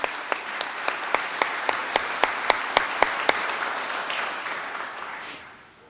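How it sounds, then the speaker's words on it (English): Graduation ceremony audience applauds the graduates, a dense wash of clapping punctuated by sharp, evenly spaced louder claps that keep a steady beat before the sound tapers off. "You can give them a round of applause"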